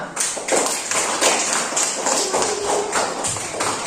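A classroom of students claps together, a dense, steady patter of hand claps at moderate distance lasting several seconds.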